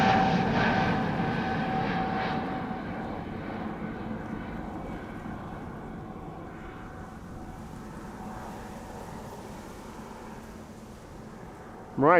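An SAS Airbus A320neo-family airliner departs Polderbaan runway 36L at Amsterdam Schiphol in showery weather, its steady engine roar loud at first and slowly fading into the distance.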